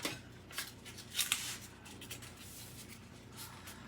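A knife cuts into an easy-peel package, making quiet, close scratchy slits and small crinkles in a few short bursts over a steady low background hum, with no talking.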